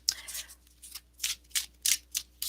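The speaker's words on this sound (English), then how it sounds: "I just have to shuffle this." A deck of tarot cards is shuffled by hand at close range, heard as a series of crisp, riffling bursts in an uneven rhythm with short quiet gaps between them.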